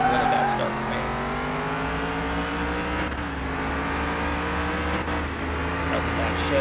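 A Corvette in a drag race accelerates hard, its engine note rising and dropping with gear shifts, loud and continuous throughout. Voices murmur faintly in the background.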